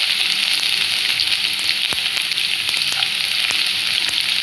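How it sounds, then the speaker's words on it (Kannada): Chopped garlic frying in hot oil in a kadai makes a steady, close sizzle, with scattered sharp crackles and pops through the whole stretch and no voices. "ಇವಾಗ ಆಯಿಲ್ ಇದೆ, ಬೆಳ್ಳುಳ್ಳಿ ಕಟ್ ಮಾಡಿ ಹಾಕ್ತಾ ಇದ್ದೀನಿ ನೋಡಿ"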